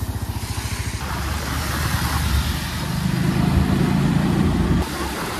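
A new motorcycle's engine runs loud and close, first pulsing rhythmically at idle, then droning steadily under wind rumble as the bike rides off and shifts up through the gears.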